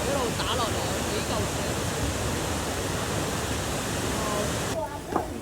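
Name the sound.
Longteng waterfall crashing down, Maling River Gorge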